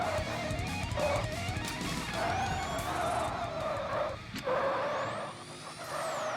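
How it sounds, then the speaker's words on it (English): Tire squeal from a car racing video game with a V8 and six-speed gearbox, a continuous loud engine drone carrying rising and falling squeals and skids over several seconds, no talk. "Redundant tire squealing noises."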